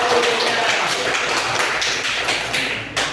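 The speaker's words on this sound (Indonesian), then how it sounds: "berikan aplaus untuk teman-teman" Schoolchildren clapping in a classroom, a dense patter of many hands at close range that holds steady for a few seconds before ending with a slightly louder hit.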